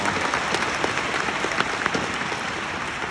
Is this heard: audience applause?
yes